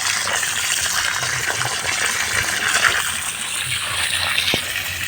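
Water poured over exposed durian tree roots, a steady broadband gush and splash running throughout at moderate loudness with no talk.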